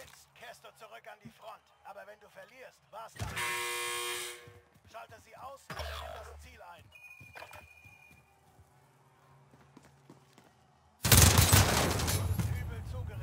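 Gunfire in the video game Call of Duty: Warzone comes in two loud rapid automatic bursts, one about a second long and a longer one near the end, separated by quieter stretches where players talk.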